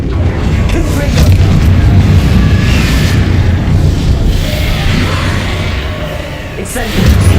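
A Confringo fire spell explodes in the wizarding video game Hogwarts Legacy, giving a loud, sustained booming rumble that rolls on for several seconds, with a fresh burst near the end.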